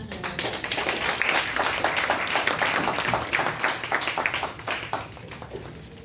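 Audience at a Sunday Gullah Geechee diaspora gathering claps steadily, a dense, close wash of many hands with sharp individual slaps poking through, tapering slightly toward the end.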